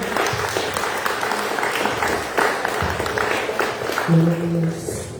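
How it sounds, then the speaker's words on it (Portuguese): A church congregation applauds during a worship service, steady clapping for several seconds with a short sustained tone near the end. "as palmas louvam ao Senhor"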